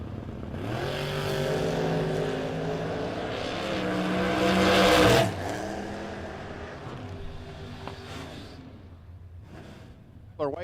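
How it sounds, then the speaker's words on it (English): A no-box 660 drag racing car launches hard off the starting line, its engine roaring loudly and building for several seconds before cutting back and fading, with a pitch sweep as it pulls away under a steady announcer's voice. "Did not sound good off the starting line for Weicker in the advanced care ride."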